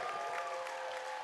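A volleyball crowd in a high school gym roars with cheers and applause after a successful block, a sustained dense wash of noise.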